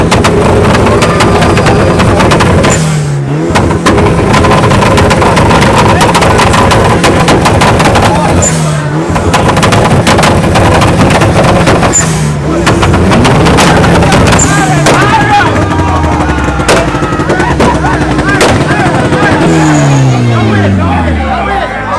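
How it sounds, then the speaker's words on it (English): Loud car engines rev repeatedly at an outdoor car show in Buff Bay, Portland, with sweeping pitch rises and drops over constant crowd chatter and music. "Engine"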